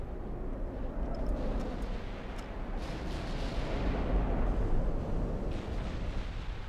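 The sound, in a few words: warship artillery fire in video game Ultimate Admiral: Dreadnoughts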